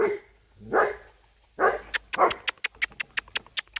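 A dog gives a couple of whimpering yelps, then breaks into a fast run of sharp, loud barks, close up.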